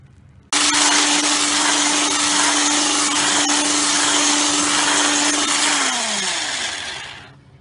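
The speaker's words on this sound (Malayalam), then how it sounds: "വാനില എസൻസ്, പഞ്ചസാര എന്നിവ ചേർത്ത് നന്നായി ബീറ്റ് ചെയ്തെടുക്കണം." An electric beater whirs loudly and steadily as it beats eggs with sugar and vanilla essence for a sponge cake, starting abruptly and winding down in pitch before stopping.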